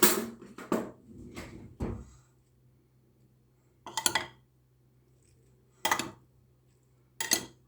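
A spoon stirs tomato and onion salad in a dish, making a few sharp clinks and scrapes close by: a cluster of strokes at first, then isolated knocks spaced apart against a quiet background.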